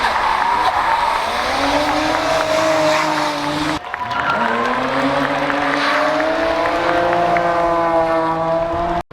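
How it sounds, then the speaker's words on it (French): Race cars drift at a hill climb event in Saint-Gouéno, France, with engines climbing in pitch over squealing tires. Two passes follow each other, the second swelling after a brief cut. "il y en a quelques-uns qui vont faire du drift là"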